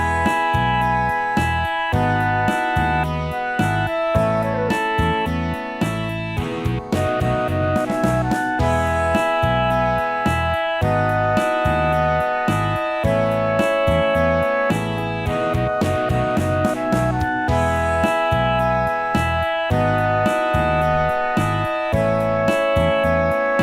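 A melodic musical phrase in the style of a song, leading into the song's outro, played steadily and continuously for the whole stretch with sustained chords and rhythmic accents, loud and up close with no voices.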